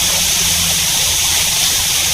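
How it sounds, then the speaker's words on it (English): A small, compact hidden waterfall in Girrakool National Park, heard as a constant close rush of falling water, steady and loud with no pauses and no voices. "It's just a beautiful little compact waterfall."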